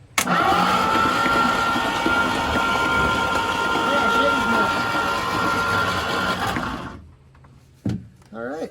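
A starter cranks a Ford 427 engine in a 1967 Chris Craft Roamer yacht: a steady, loud whirring grind runs for about six seconds, then cuts off, with a few brief spoken words near the end.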